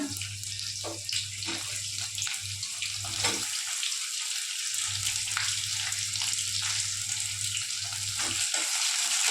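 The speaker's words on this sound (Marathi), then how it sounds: "आता आपण कांदा टाकून घेऊया" Onion tipped into hot oil with garlic crackles and sizzles steadily with a few sharp pops, while a low hum drops out briefly midway and returns, and no one speaks.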